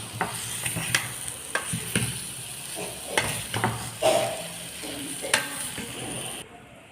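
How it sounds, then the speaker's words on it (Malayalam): Mango pieces are stirred into a hot spice mix in a pan for Kerala-style mango pickle, with repeated scraping and clattering strokes of a spoon over a light sizzle, close and fairly loud, ending abruptly. "ഇനി ഇതിലോട്ട് നമ്മൾ മാങ്ങ ഇട്ട് ഒന്ന് മിക്സ് ചെയ്യണം."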